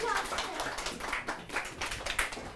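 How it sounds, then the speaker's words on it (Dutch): Children and adults in a museum youth-university lecture clap briefly, a scattered, uneven patter of hands at moderate level in a small hall. "Applaus."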